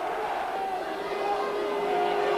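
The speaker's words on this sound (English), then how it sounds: "the Bury supporters are cheering as if they'd scored" Bury football supporters cheering at a match against Rochdale, a steady distant roar of crowd noise filling the stadium without pause.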